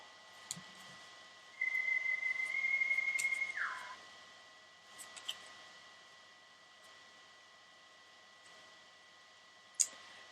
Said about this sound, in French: j'ai le portable qui siffle